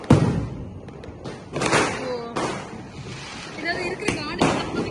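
Bijili firecrackers burst during Diwali celebrations with several sharp, close pops and cracks spread irregularly through the clip, while people shout and talk excitedly around them.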